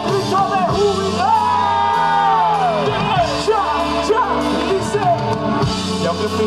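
A concert crowd at a Christian music festival shouts, whoops and cheers loudly, a dense sustained roar of voices with rising yells carrying over the whole stretch.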